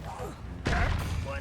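A Descendo spell in the Hogwarts Legacy video game slams an enemy down, bursting out as one sudden heavy thud-like blast midway through over a busy combat background.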